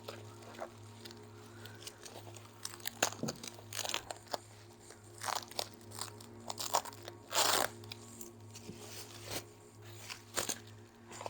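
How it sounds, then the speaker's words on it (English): Bubble wrap and styrofoam packaging come off carbon fiber parts for a Mercedes E63 AMG S, with close, irregular crackling, crinkling and squeaky crunches in uneven bursts over a faint background hum. "I have to unwrap it first with all the bubble wrap and then go back in and unwrap the styrofoam as well"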